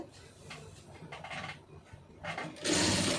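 A sewing machine stitches quarter-inch piping onto a garment neckline in short whirring runs that stop and restart, close and moderately loud, ending in a longer, louder burst.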